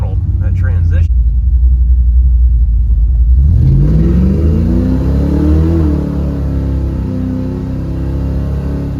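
A Dodge D150 pickup idles with a deep rumble, then its engine revs up and holds a rising, steady growl. The sound is loud and close, and a brief voice comes early.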